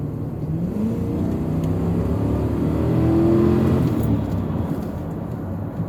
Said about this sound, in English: And again, the acceleration in this car.